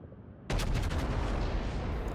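Battleship Montana firing a main-gun salvo in World of Warships, a sudden loud booming blast that cuts in from near silence and rolls on as a sustained rumbling roar with brief crackling bursts, no voices.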